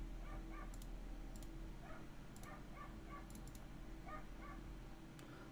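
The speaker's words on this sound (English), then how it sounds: "Sorry if you can hear my dogs in the background." Several dogs bark and whimper faintly in the distance, in short scattered yips and bursts over a low steady background hum, with no talk.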